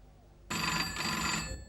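A telephone rings loudly and steadily with a bright electronic tone on a film set during a take, starting abruptly and continuing for over a second, close by.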